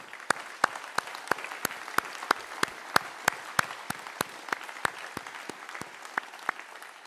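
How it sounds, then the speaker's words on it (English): Applause at the closing ceremony of the International Physics Olympiad in France: steady, moderately distant clapping from an audience, with a few sharper nearby claps standing out throughout. "A special round of applause for the entire academic committee"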